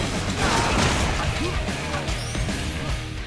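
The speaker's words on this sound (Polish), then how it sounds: "Boom. O, wybuchaj." Explosions and chaotic combat noise in the first-person shooter Painkiller Hell and Damnation, a dense, loud roar of blasts, crashes and debris that stays constant for the whole stretch with no pause.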